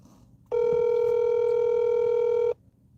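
Telephone ringback tone heard while placing a call, a single steady buzzing tone lasting about two seconds, loud and close, starting and stopping abruptly over faint background noise.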